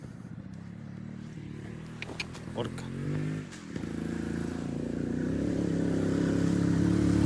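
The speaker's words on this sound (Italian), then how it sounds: "Come arriva la moto" A motorcycle engine draws closer, its rumble growing steadily louder and rising in pitch, after a man's brief exclamation.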